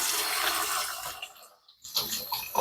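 Limes being washed under running tap water, a near rushing stream with splashes that briefly cuts out, then resumes with uneven spattering as the fruit is rinsed.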